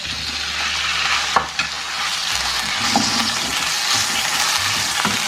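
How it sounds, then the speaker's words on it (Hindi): Chicken pieces fry in two tablespoons of oil in a pan, giving a loud, steady sizzle with a few sharp stirring knocks and no voices. "ये 2 टेबल स्पून हमने ऑयल डाला है, इसमें चिकन डाल देंगे।"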